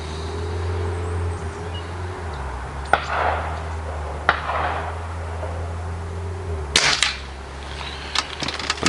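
A Weihrauch HW77K air rifle fires pellets at a field target, with a few sharp, isolated cracks and thumps spaced seconds apart over a low steady hum, outdoors, with no talk.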